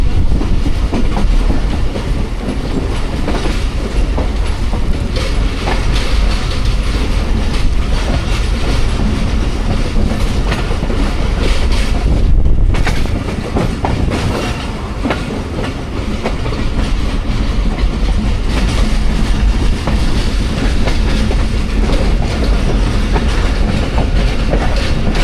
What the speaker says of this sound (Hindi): 46 टाउन पाकिस्तान एक्सप्रेस दीना रेलवे स्टेशन पे अप्रोच बना रही है